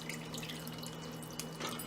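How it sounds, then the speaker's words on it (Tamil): Water runs and drips steadily over strained chhena in a strainer while rasgulla is being made, a soft, close trickle with a few brief splashes. "நாம் வந்து கொஞ்சம் தண்ணி ஊற்றி அலசிக்கலாம்"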